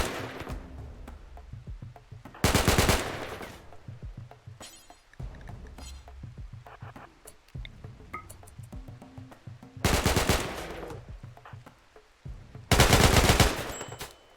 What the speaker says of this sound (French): il tire sur les colons